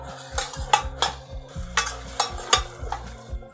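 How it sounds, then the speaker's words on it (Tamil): Onions and tomatoes are stirred in a pan for tomato rice, a spoon scraping the metal in repeated strokes, roughly six clear scrapes over a soft steady sizzle, with no one speaking. "இந்த வெங்காயமும் தக்காளியும் நல்லா மசிஞ்சு வரட்டும்"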